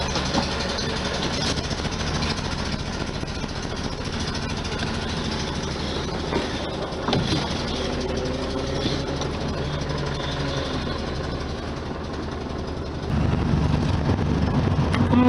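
A 1973 VW Super Beetle engine idles with a steady rumble that stays level throughout and grows slightly louder near the end.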